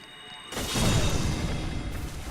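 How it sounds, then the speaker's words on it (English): Area-of-effect explosion from a Moonlight Greatsword attack in a video game, a sudden loud burst with a booming low rumble that then sustains as a dense, fading wash. "The explosion on the AoE seems actually somewhat big."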